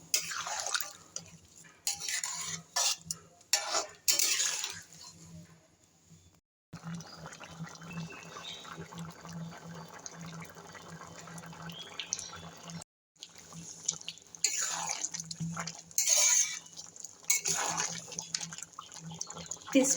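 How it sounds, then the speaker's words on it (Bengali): Water left from boiling jackfruit is poured into a pan of prawn curry as it cooks, making a steady, close splashing and bubbling pour that runs for several seconds between quieter kitchen sounds. "এবার আমি দিয়ে দেবো এঁচোড় সিদ্ধ করার যে জলটা আছে সেই জলটা দিয়ে দেবো"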